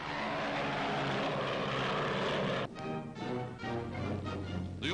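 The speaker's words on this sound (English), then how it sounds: "Even when flying on only one of its powerful twin motors, Canada's Mosquito bomber carries a deadly sting." A de Havilland Mosquito twin-engine bomber flies past with a steady propeller drone that drops off sharply partway through, then continues as a rougher, wavering engine hum.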